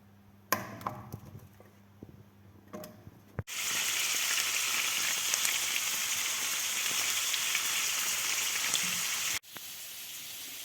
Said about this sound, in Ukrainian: ми підсмажимо м'ясо на пательні і підсмажимо картоплю